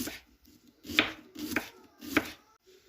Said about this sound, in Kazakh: Енді бір дана пиязды алып, оны да майдалап турап аламыз дөңгелекшелетіп.